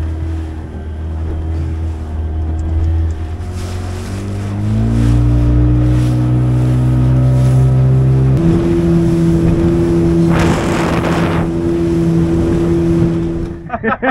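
Boat outboard motor running on Gazprom G-Wave 2T two-stroke oil during a test drive, a steady close engine drone that steps up in pitch as it speeds up, with a burst of water wash partway through.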